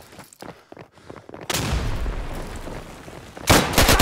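Bursts of gunfire in the Insurgency video game, World War II armory mod, with scattered shots early on, then a loud sustained volley and a second heavy burst at the end, heard close.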